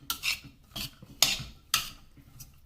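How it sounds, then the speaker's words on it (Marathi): Spiced stuffing masala for stuffed brinjal being mixed by hand, four or five short rasping rubs at an uneven rhythm, close and fairly quiet with no voices. "आता हे सगळं पुन्हा असं एकजीव करायचं."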